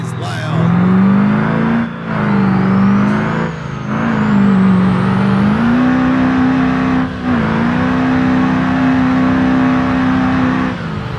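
An 18-wheeler truck's engine revs loud and steady in BeamNG.drive during street racing at Deal's Gap, its pitch rising and dipping as it accelerates, with brief drops between pulls and no talking.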